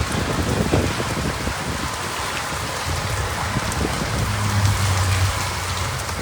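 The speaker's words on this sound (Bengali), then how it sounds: "প্রচুর পরিমাণ বৃষ্টি এই মুহূর্তে, সাথে বাতাস এবং নদীতে রয়েছে প্রচুর পরিমাণ ঢেউ।" Heavy cyclone rain from Cyclone Remal pours steadily at the riverside Kumira Guptachhara ghat, a dense, constant hiss of drops on surfaces with gusty wind underneath and no voices.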